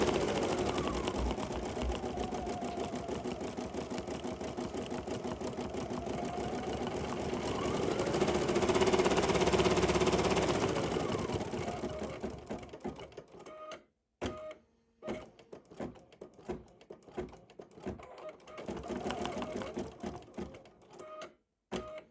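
An embroidery sewing machine stitches a navy-themed sampler block through a hooped, stabilized fabric, a steady rapid mechanical hum for about 14 seconds, then broken into short bursts of stitching separated by brief pauses.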